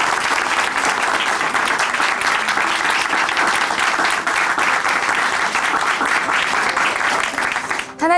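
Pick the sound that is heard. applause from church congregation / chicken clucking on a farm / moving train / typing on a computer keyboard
applause from church congregation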